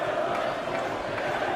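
The Winter Gardens darts crowd chants "There's only one Phil Taylor" during the 2013 World Matchplay final, a steady, dense roar of many voices filling the hall.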